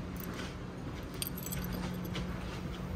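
A set of physical hotel room keys at a historic lakeside inn jangles softly in short, close metallic clinks and rattles against a quiet room.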